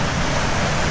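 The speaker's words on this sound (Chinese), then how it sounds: "我去，这里风大！" Strong wind roars on a mountain path near a waterfall, a dense, continuous rush of noise that blends with the sound of falling water in a brief burst.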